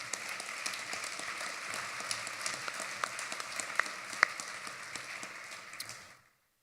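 A conference audience at the 2017 IBSC Annual Conference applauds a speaker who has just been introduced. The dense, steady crackle of many hands carries a few sharper claps and fades out near the end.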